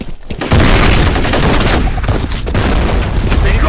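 Grenade blast in the shooter F.E.A.R. during an online capture-the-flag match: a loud, sustained booming roar that kicks in after a brief quieter start and holds with crackling debris, with voices faintly mixed in.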